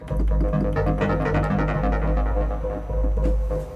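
A modular synth arpeggio through a wave folder and low pass gate repeats rapid pulsing notes with a thick, buzzy, harmonically rich tone over a deep sustained low end, loud and continuous.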